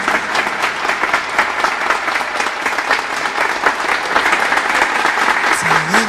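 Audience applause at a Turkish event, a dense, loud burst of clapping that continues steadily throughout, with faint voices mixed in.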